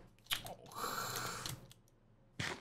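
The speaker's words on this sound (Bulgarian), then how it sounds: "Да хапна малко рибка" Eating fish in Minecraft makes crunchy chewing bites in short bursts, close and clear, with a few clicks between them.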